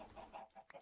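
Minecraft chickens clucking in a short run of soft, quick, close clucks with no talk over them.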